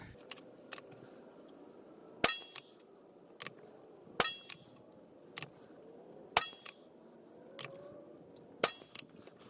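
.22 CB rounds fired from a Savage Rascal rifle: several sharp, quiet cracks spaced a second or two apart, each followed by a faint metallic click as the single-shot action is worked between shots.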